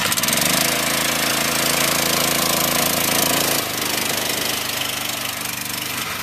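A cart's engine is held on the gas, roaring loudly and continuously with a rough, knocking drone. Its pitch and level drop partway through, then it keeps running without any speech.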